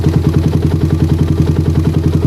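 A motorcycle engine with a PE/PWK/PWL-type carburetor idles steadily up close, a loud low even pulse with a faint hiss layered over it and no voices.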